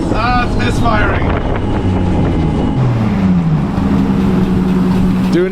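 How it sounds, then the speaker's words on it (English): A loud 1JZ engine in a NASCAR race car misfires, running with uneven, sputtering revs and pitch shifts, with wind rumbling against the microphone throughout. "Ah, it's misfiring."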